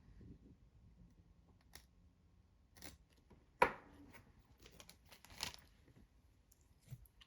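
Scissors snip pheasant tail feather fibers from the stem for fly tying, a single sharp close cut standing out amid a few faint clicks and quiet handling noise.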